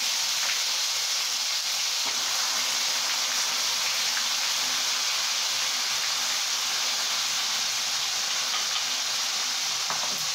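Onion paste frying in hot oil in a wok, a steady broadband sizzle and hiss that runs unbroken and fairly close throughout, with no voices over it.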